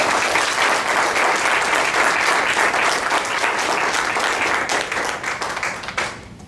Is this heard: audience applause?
yes